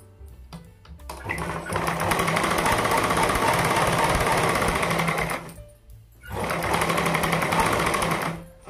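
Sewing machine stitching Punjabi dress fabric: two loud, steady runs of rapid mechanical needle chatter, the first about four seconds, a brief pause, then a second burst, close up with no talking.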